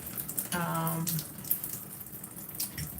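Warm water running from a tap during hair styling, a short close gushing stream that starts and stops within a few seconds, fairly quiet, with a brief tone and small clinks around it.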